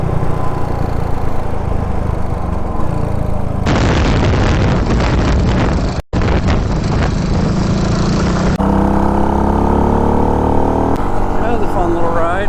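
Motorcycle engine and wind rumble loud and continuous during a ride, shifting in character across several abrupt cuts, with someone talking over parts of it.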